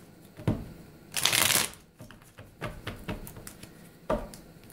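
Tarot cards being shuffled by hand at close range, a loud riffling burst followed by softer scattered taps and flicks of the deck.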